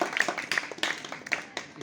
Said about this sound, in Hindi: अंशुमन के लिए हो जाए भाई जोरदार तालियां